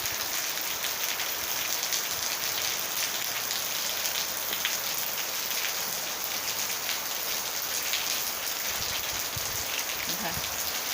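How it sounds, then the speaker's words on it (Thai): Rain falls steadily on a window on Koh Kradat in Thailand, making a continuous dense hiss with scattered drop taps, and a faint voice comes through underneath. "ฝนตกที่หน้าต่าง"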